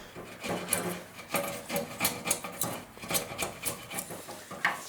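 A rasp and chisel work the joining flange of a divisible composite wooden mast, giving repeated scraping strokes in an irregular rhythm, close and fairly loud, with no talk.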